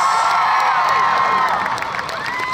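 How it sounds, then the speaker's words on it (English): A crowd at a Harry Potter film talent Q&A session cheers and shouts loudly and continuously, with a dense wash of many voices and some whoops. "One more big round of applause for Mr. Tom Felton, Jason Isaacs, Matthew Lewis, and Warwick Davis."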